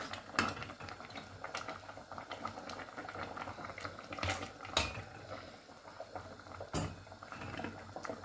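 A pot of spinach stew simmers close by with a continuous soft bubbling and a few louder pops and clinks spread throughout.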